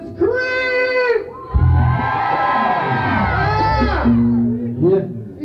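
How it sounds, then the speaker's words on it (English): A live reggae concert crowd at New Morning in 1993 erupts in loud screams and cheers from women, a dense sustained roar with high shrieks, briefly dropping before rising again. "I want to hear the ladies scream!"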